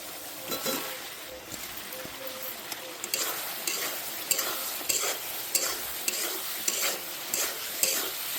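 Potatoes stirred into hot oil and fried spice masala with curry leaves for alur dom, giving a bubbling sizzle broken by repeated scraping spatula strokes at an irregular rhythm, close and moderately loud, without speech.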